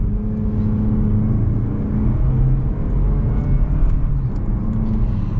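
A 2023 Mazda CX-30 Premium AWD accelerates on the road, its engine building in a steady, fairly loud whirring rise with road noise underneath.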